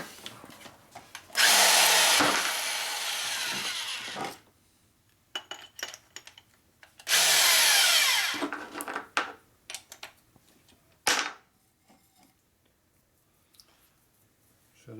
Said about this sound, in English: You have a nice controllable 1/2-inch drill motor.